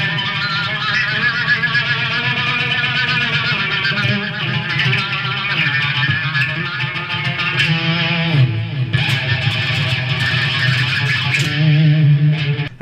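Electric guitar with a delay effect, the pick scraped along the strings while the fretting hand moves, giving a sustained, dense, distorted wail that swells and shifts in pitch throughout, loud and continuous with no talking.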